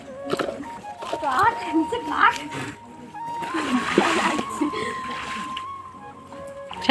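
Water splashes irregularly as someone wades at night to catch shrimp with a net, close sloshing and splattering bursts mixed with people talking throughout.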